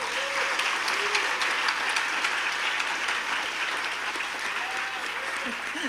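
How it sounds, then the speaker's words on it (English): Conference attendees at a closing session applaud continuously, a broad wash of clapping from a sizable crowd that holds steady throughout, with a few faint voices mixed in beneath it. "So can we give another round of applause?"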